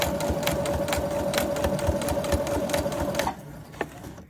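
A sewing machine stitching a hem along fabric folded over twice, running in a fast, steady rhythmic whir for about three seconds before stopping, followed by a single faint click.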